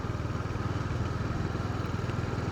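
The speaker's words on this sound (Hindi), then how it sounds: "बीच से जब अपने बाइक को निकालते हैं मज़ा ही आ जाता है।" Motorcycle riding along a road between green plants on both sides, its engine droning steadily and close with a rapid pulsing rhythm throughout, no talk.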